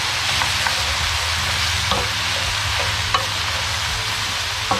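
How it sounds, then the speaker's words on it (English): Mixed vegetables stir-fried with salt and black pepper in a hot pan give a steady, close sizzle, with occasional faint clinks of a utensil stirring through them. "Stir fry vegetable, just continue stir"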